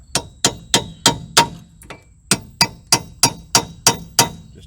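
Strut bolts on a car's front strut assembly are tapped in to start them: about a dozen sharp, ringing metallic hammer blows at a steady pace with one brief pause, close and loud.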